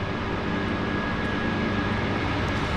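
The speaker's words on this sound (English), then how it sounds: "They won't let the next airplane take off until this aircraft is very much well on his way, or her way, to the island." A seaplane departing Vancouver Harbour toward the island, its engine a steady low drone with a faint tonal whine, sustained at constant loudness from a moderate distance.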